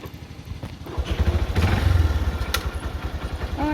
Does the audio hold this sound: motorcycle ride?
yes